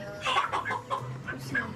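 Broiler chickens at a poultry slaughterhouse cluck and squawk in short, overlapping bursts, close and lively, with no talk over them.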